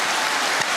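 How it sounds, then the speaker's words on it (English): Under a second of thick, even applause for a guest on a hip hop podcast, loud and continuous clapping with no speech. "Let's go ahead and give my guy a round of applause."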